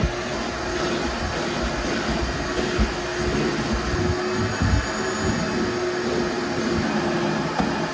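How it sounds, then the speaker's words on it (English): A vacuum cleaner runs steadily inside a 1962 Ford Ranchero, giving a constant loud rushing whine with slight fluctuations as it moves through the cab, and no talking. "All right, let's get to vacuuming."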